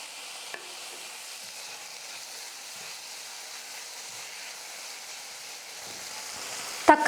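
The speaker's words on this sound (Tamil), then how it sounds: "இந்த தக்காளியும் சேர்த்து நல்லா வதக்கிக்கிறேன்." Tomatoes sautéing with onions in a pan for Kerala-style kadala curry give off a faint, even sizzling hiss throughout, ending in a couple of sharp utensil clanks against the pan, with no talking.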